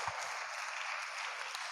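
A church congregation at a sermon bursts into applause, a dense, even wash of clapping that holds steady for the whole moment.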